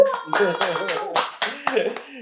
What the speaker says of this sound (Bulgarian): Насе, един големи аплодисменти за тебе